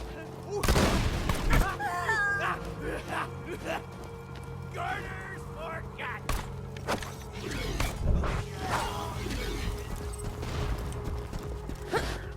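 Video game gunfire from Borderlands, a run of sharp shots and bursts scattered through the clip, mixed with game effects and a voice talking throughout.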